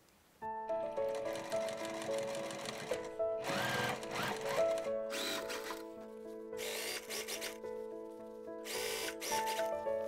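A sewing machine runs in several loud bursts while stitching a high-neck jacket, its fast mechanical whir starting and stopping over a steady underlying hum, with no voices.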